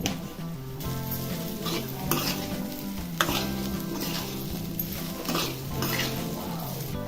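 Sugar being stirred into corn chivda frying in a pan, a steady sizzle under repeated scraping and stirring of a spoon against the pan, with occasional metallic knocks, close and continuous.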